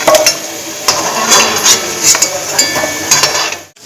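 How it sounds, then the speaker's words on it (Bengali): Metal utensils clink and tap against a plate as fried potatoes are lifted out of the pan in a home kitchen, giving a run of sharp, close, irregular clinks with short pauses between them. "ভাজা হয়ে গেছে, আলুগুলোকে আমি একটা প্লেটে তুলে নিচ্ছি।"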